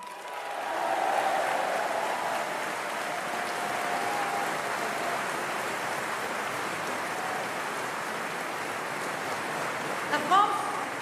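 An audience at a political rally in Marseille applauds with a broad, roomy wash of clapping that swells early and then holds steady, with a few louder bumps near the end.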